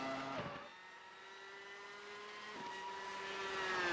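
Race car engine in the iRacing sim, a steady harmonic drone that shifts pitch twice as gears change, holding fairly loud and close throughout with no talking.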